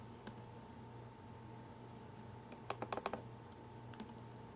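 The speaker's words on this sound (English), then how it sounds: "So now I'm going to go back to Facebook and I'll type in ABC 3340" Someone typing a search into Facebook on a computer keyboard: faint, quick clusters of key clicks over a low steady hum, with a short burst of several taps near the middle.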